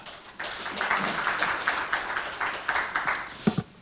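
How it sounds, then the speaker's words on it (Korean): Audience applause at a regional seminar in a hall, a dense burst of clapping from a crowd that starts abruptly and holds steady for several seconds, with a few louder individual claps at the end. "큰 박수로 모시겠습니다."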